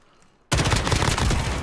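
Sudden machine gun fire in the battle royale game Warzone, a loud, close, continuous rapid burst that breaks out of near-silence.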